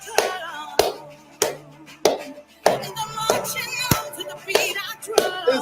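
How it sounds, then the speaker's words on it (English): A live audience clapping hands, sharp separate claps at roughly one-second intervals mixed with voices and shouts between them, fairly close and loud. "Feel the energy of you clapping."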